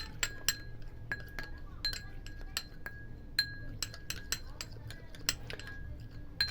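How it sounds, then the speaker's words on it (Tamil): Spoon repeatedly clinking against a bowl while rose water and gram flour are mixed, bright rhythmic taps several times per second, close and clear over a faint background. "இது நல்லா இந்த ரோஸ் வாட்டரும் கடல மாவும் சேர்த்து நல்லா மிக்ஸ் பண்ணிக்கோங்க."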